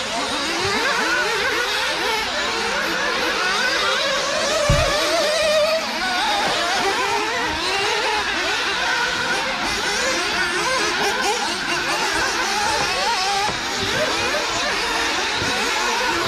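Nitro RC racing cars, a Sworkz S35 and a Kyosho MP10, race on a track in a final round, their small engines buzzing and whining continuously at steady high revs throughout.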